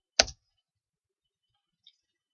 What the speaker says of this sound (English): Close our bracket and click enter.